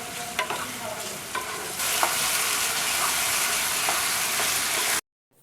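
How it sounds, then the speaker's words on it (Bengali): Fried vegetables with tomato paste and peas are stirred in a pan while making rawa upma. A close, loud, dense sizzle swells about two seconds in, with a few scraping stirs, then cuts off abruptly. "সেটাকে ভালোভাবে নেড়ে চেড়ে তার উপর দিয়ে দিতে হবে মটরশুঁটি।"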